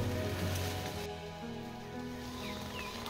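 Rain falls steadily in a mountain forest during a rainy hike, a soft continuous hiss with a low tonal hum beneath it.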